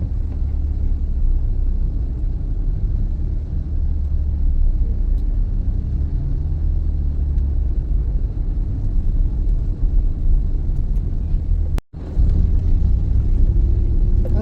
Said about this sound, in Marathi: फाउंटन थोडंसं क्रॉस केलं त्याच्यानंतरच ट्रॅफिक लागलेली आहे